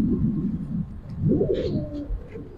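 A Giribaz pigeon coos in a loft, two or three soft, low, rolling coos close by, with faint chirps from other birds around it.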